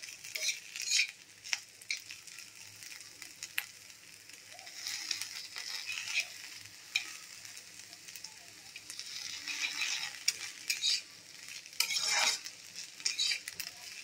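Ivy gourd pieces frying in a pan for dondakaya pachadi, stirred with a utensil that scrapes and clinks at irregular moments over a steady soft sizzle, fairly quiet and close, with no voices.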